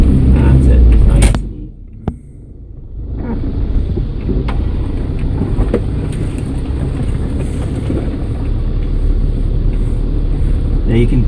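A car driven off road along a rutted track gives a loud, steady engine and tyre rumble. It drops briefly, then returns and holds continuously, with people talking over it.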